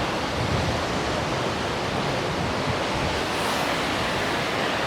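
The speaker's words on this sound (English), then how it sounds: "between the wind and the sound the water's making, it's pretty darn loud" A swollen river rushes as a raging torrent while wind buffets the microphone, making a loud, constant broadband roar up close that never lets up, with no voices audible.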